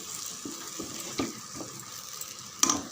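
Masala sizzling and frying in a pan while being stirred for a Tamil chicken kulambu, a steady soft hiss broken by small scraping clinks, close up with no talking.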